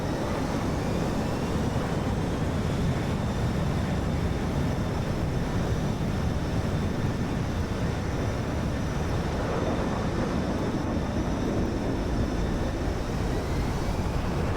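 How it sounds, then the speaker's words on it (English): Hornet jet taking off in a flight simulator game, a steady broadband engine roar with a thin high whine that holds at an even loudness throughout, no talk over it. "that's Hornet taking off"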